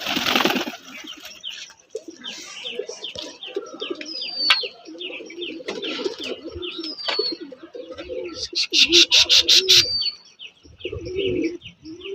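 Pigeons coo repeatedly close by, mixed with chirps and the odd flutter of wings, with a burst of sharper calls near the end and no voices.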